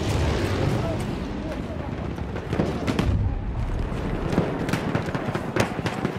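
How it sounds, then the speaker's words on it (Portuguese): Grenade and gunfire explosions in the Battlefield 1 multiplayer game on Xbox One: heavy booms and sharp cracking blasts from a chaotic battle, loud and dense, with game voices mixed in. "Jogando granada!"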